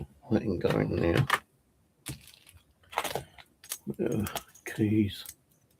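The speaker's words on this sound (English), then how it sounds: "Keys to one of the ghost boxes can go up there." Keys rattle and clink in a few brief metallic jangles among loud, close talk while gear is sorted on an electronics workbench.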